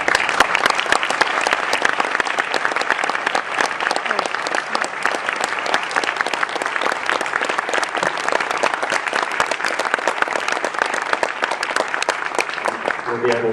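An audience applauds award recipient Byron Gustafson, dense steady clapping from a crowd filling the room throughout, without a break.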